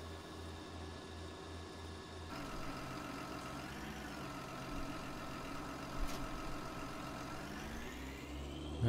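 A tractor engine in Farming Simulator 19 runs steadily at a low, even drone, its pitch shifting slightly as it revs, faint and continuous with no talk.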